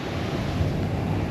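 Wind gusts across a cloudy beach at Patong, a steady broadband rush with surf mixed in, fairly loud and continuous with no talking.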